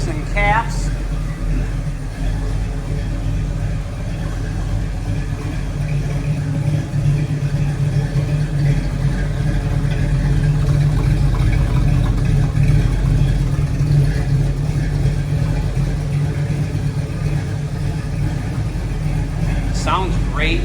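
A 1966 Chevrolet Nova with a 327 V8 runs at a steady, rumbling idle-level drone, heavy in low tones, continuing throughout with a slight swell in the middle. A voice speaks intermittently over the engine.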